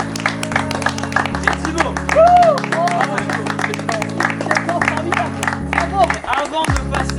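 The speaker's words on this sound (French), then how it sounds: "On peut les applaudir bien fort." An audience applauds race winners at a touch rugby tournament's awards ceremony, steady crowd clapping mixed with scattered shouts while an announcer speaks over amplified music.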